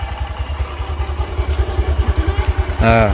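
A motorcycle engine running close by at night with a steady rapid thumping pulse, then a brief louder rise near the end as the bike is put into first gear, with a voice faintly present.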